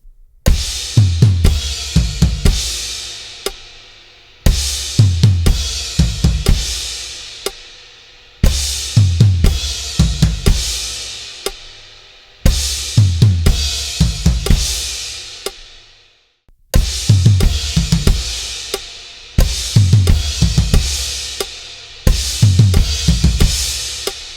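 A drum kit plays a repeating pattern of crashes over punchy kicks and rolling tom hits, in loud bursts with brief gaps between phrases, no voices.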